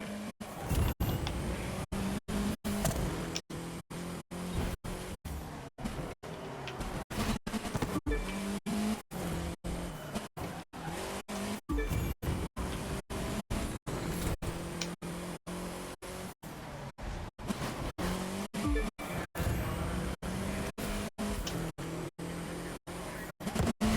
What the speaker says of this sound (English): the streets are clear for an all-out speed contest past one of the most vertical cities in the world